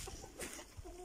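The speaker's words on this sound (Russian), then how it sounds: "Какие красивые петухи." Faint, distant clucking from roosters, a few short low calls in a quiet outdoor setting.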